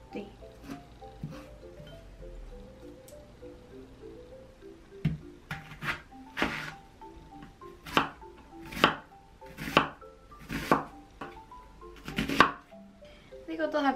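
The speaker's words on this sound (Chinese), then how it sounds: "想將佢切碎啲，等 basil 嗰個香味更加出啲。" A knife chops fresh basil on a board, starting with light scattered taps, then settling into a run of sharp, evenly spaced cuts that grow firmer toward the end, close and clear with no voices.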